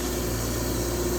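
A steady, rumbling four-cylinder diesel engine of a Komatsu PC200CE excavator idles nearby, a constant low drone with a dense mechanical hum and no breaks.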